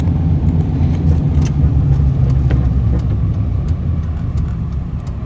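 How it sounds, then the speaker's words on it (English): Turbocharged Chevy truck engine, recently repaired after a blown turbo, idling with a steady low rumble up close and faint intermittent higher whistly ticks on top. "You can hear the turbo."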